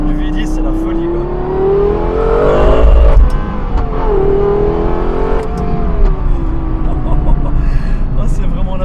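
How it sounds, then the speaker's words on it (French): A Lexus LFA's V10 revs hard from inside the car, the engine note climbing and falling in rising sweeps with a loud roaring tone, while someone talks excitedly over it. "je vous laisse apprécier le son du V10"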